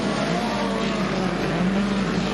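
Speed cars race around the 360-metre Murray Bridge speedway during the South Australian Speed Car Championship, engines roaring loud and sustained with a rising and falling drone.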